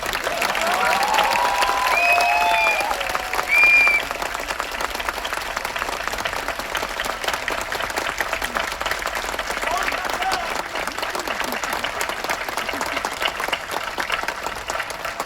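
A packed theatre audience at Shree Shivaji Mandir in Dadar applauds after a Marathi play, with dense, sustained clapping throughout that swells briefly near the start and carries on steadily to the end.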